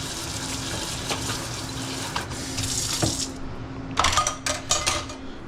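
A kitchen faucet runs for a quick rinse while tori paitan ramen is being made. Water splashes and gushes into the sink with some bursts of spray, then cuts off near the end, with no talking.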